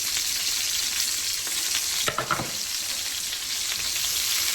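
Onions and green peppers sautéing in oil for Liberian jollof rice, a loud, even sizzle close by, with a brief burst of scraping or stirring partway through and no voices.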